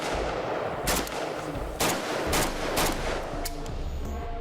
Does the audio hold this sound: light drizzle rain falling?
no